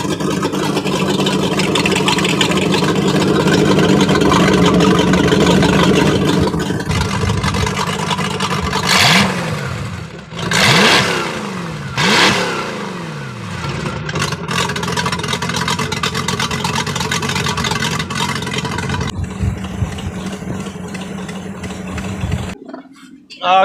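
A 2021 Chris Craft Stinger 222 speedboat engine starts up and rumbles loudly nearby, then revs in several sharp rising-and-falling bursts before settling and cutting off.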